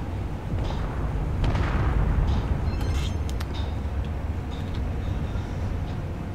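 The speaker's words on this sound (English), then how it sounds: "I'm shooting rockets." Rockets firing and exploding during a Space Engineers spaceship battle. A continuous heavy rumble carries several sharp blasts and crackling bursts, loud and close, with no talking.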